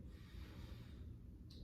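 A deep, slow inhale during yoga practice, close and soft, with a breathy rush filling the short moment.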